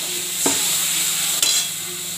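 Spices (cumin powder, turmeric and salt) sizzle in a hot pan as a little water is added, giving a steady close hiss broken by two sharp clatters of stirring.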